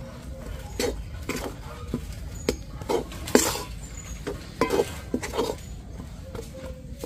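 A utensil stirs a coconut-milk dudh puli pitha mixture in a pan over low heat, making soft scraping and clinking taps in an irregular rhythm, close and fairly quiet.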